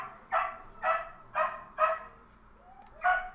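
Neighbours' dogs barking next door, five sharp barks at roughly half-second intervals with a pause before the last, set somewhat back against a quiet background.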